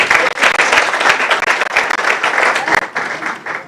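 Audience at a graduation ceremony claps loudly and steadily, a dense close burst of applause sustained for a few seconds.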